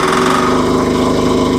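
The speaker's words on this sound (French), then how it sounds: "Pour démarrer, rien de plus simple, on va mettre les gaz et donner un tour de clé." Engine of a Rhinoceros XN-10 mini excavator running after being started with the throttle opened, a loud, close, steady mechanical drone with a fast even putter and a constant tonal hum.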